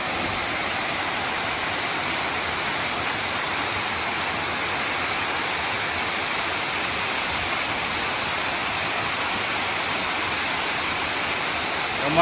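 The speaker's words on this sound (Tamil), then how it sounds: "இந்த இடத்துல வெறும் வாட்டர் ஃபால்ஸ் சவுண்டு மட்டும்தான்" Bhimeshwara waterfall rushes in a dense, steady roar of falling water that continues unbroken and fairly loud, with no voices.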